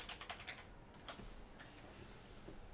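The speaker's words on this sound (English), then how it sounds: "Oh, so much typing." Fast, steady typing on a computer keyboard, soft clicks close by in a quiet room with no talk.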